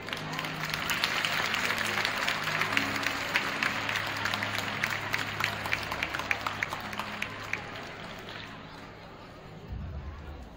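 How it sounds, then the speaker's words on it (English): An audience in a gym claps steadily at a president's installation ceremony, a dense crowd applause with some chatter mixed in that fades toward the end. "Let's give another round of applause for Shoemaker"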